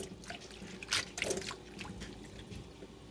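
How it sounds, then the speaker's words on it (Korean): Blanched eomnamu shoots are dropped into cold water, making quiet splashes and trickling sounds over about three seconds, with a brief louder slosh near the start. "일반 시금치 시금치 나물 데치듯이 이렇게 해가지고 찬물에 찬물에다가 이렇게 좀 담가 놓습니다"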